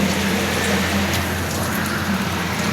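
Steady rain falls on a rainy, stormy day, with a constant dense hiss and no pauses, loud and close, while a faint vehicle rumble sits underneath.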